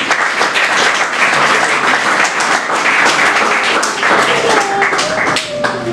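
Church congregation applauding during a Spanish-language sermon, steady dense clapping from many hands filling the room throughout, loud and sustained with some voices mixed in.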